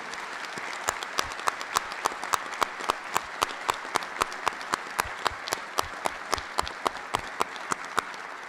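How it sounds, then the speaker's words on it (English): Audience at a city government inauguration ceremony giving a steady round of applause, many hands clapping close together in a dense, even rhythm for several seconds with no talk. "please join me in a round of applause for all of our hard workers"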